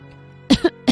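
An old man gives a slight cough, three short, soft bursts close by in a quiet room.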